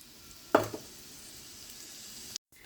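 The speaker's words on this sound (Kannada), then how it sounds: "ಈ ಒಗ್ಗರಣೆ ಹಾಕ್ತಾಯಿದ್ದೀನಿ" Whole spices crackle into two to three spoonfuls of hot oil as a tempering for a fenugreek-leaf stir-fry, with a sharp burst of sizzling followed by a steady, close hiss that cuts off abruptly near the end.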